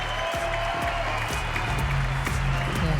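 A tennis crowd at Roland-Garros applauds Aryna Sabalenka, steady dense clapping from a large stadium audience, while a voice speaks over the ovation.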